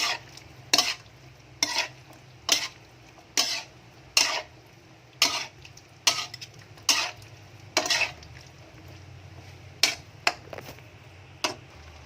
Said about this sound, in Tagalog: Haluin ulit para matunaw yung asin